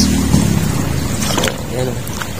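Strong floodwater from nonstop rain rushes in a steady, broad wash, with a voice talking briefly over it.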